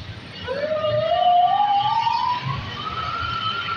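A loud fire truck siren rising in a long, slow wail, with a low rumble of traffic underneath.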